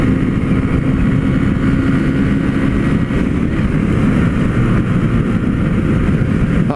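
A new DK 160 motorcycle engine runs steadily while riding out from the dealership, a loud continuous low rumble with wind and road noise throughout, no talking.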